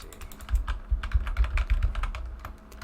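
Rapid, uneven keystrokes rattle on a computer keyboard during PC gaming, a close run of clicky taps and heavier thuds with no talking.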